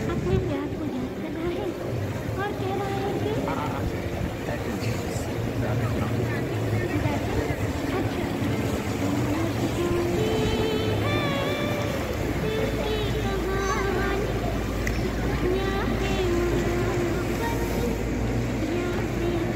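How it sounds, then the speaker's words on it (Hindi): Water buses and water taxis on a Venice canal, a steady rumbling motor drone with water wash, continuous and fairly close, under a crowd's babble and scattered voices. "वाटर बस आसूची वाटर बस एवं वाटर टैक्सी"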